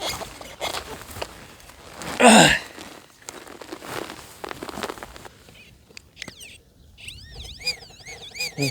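A metal detector sweeping over a buried target in a field, ending in a wavering, warbling electronic tone that repeats in quick pulses after some rustling and a brief loud noise.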